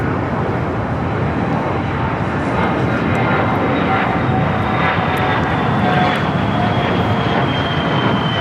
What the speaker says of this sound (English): We do have the Al Dreamliner and the Jerusalem of Gold special livery. Pushing back